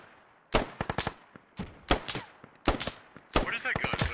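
Video-game machine gun fire from a PKM or M240, several sharp bursts of rapid close shots separated by short pauses, with a voice briefly speaking near the end.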